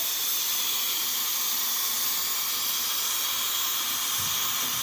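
A pressure cooker whistle releases steam in a loud, steady, unbroken hiss that holds at the same level throughout.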